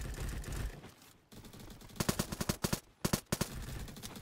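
Rapid bursts of gunfire from a quick-firing gun in the Roblox shooter Bad Business, crackling in tight clusters of sharp shots with brief pauses between volleys, loud and close over a constant game background.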